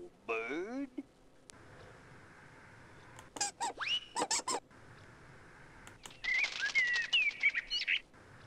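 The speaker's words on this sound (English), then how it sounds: "Hello, bird." Cartoon bird chirps and squeaks in a Sesame Street numbers video game, arriving in short bursts of bright tweets between pauses, with a character talking around them.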